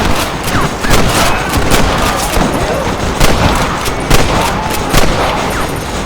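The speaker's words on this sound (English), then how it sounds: "Stop shooting at me!" A shootout in the video game Red Dead Redemption crackles with rapid, repeated gunshots and sharp bursts of fire, loud and dense over a busy battle din.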